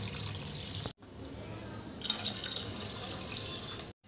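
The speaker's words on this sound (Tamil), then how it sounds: "இது கூடவே தேவையான அளவு தண்ணி." Water is poured into a pan of spicy fish curry with ground coconut paste, a close, steady splashing pour with a brief break and a dip near the end.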